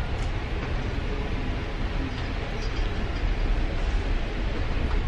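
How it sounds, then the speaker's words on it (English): Interior of a double-decker commuter train heading to Toronto, riding along with a steady, loud rumble and broadband rolling noise throughout, with no talking. "we're on the train to Toronto and it's a double decker"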